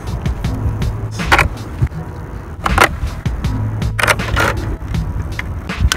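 Wheels being fitted onto a skateboard during assembly, a close series of sharp clicks, knocks and rattling metal taps in irregular bursts, without talk.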